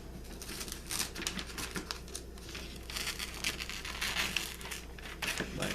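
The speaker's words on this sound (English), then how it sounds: "you'll take the scissors and cut along" Scissors cut through gift wrapping paper nearby, giving a few seconds of soft, continuous crinkling and rustling with faint snips in a quiet room.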